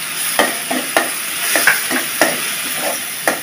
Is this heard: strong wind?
no